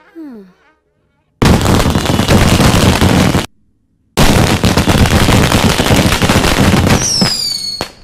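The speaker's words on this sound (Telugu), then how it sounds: "టపాకాయలు బాబు వెళ్తున్నాయి" Loud bursts of rapid crackling firecrackers in two long volleys separated by a brief pause, with a short voice before and a whistling rocket near the end.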